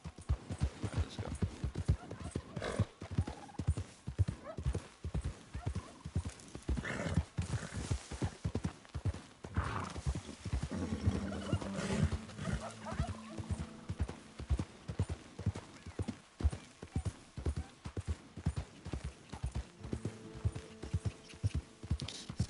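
Horse hooves clip-clop steadily at a trot in Red Dead Redemption 2, a close, rhythmic beat running the whole time with an occasional neigh and faint game ambience underneath.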